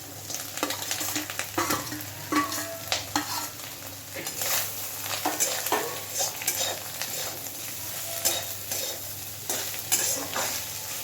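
Teasel gourd fries with egg and onion in a pan, giving a steady low sizzle broken by frequent spatula scrapes and stirring clicks, close up and fairly soft.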